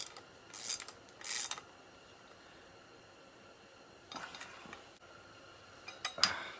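Tightening rear sprocket nuts on a 2002 Honda CR250 dirt bike with a wrench, quiet metallic clicks and ratcheting in short bursts separated by pauses, close up with no talking.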